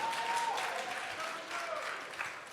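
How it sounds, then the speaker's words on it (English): Audience applause fills the room at a startup pitch competition, a dense, steady wash of many hands clapping that stays loud throughout with a faint whistle-like tone early on. "Round of applause."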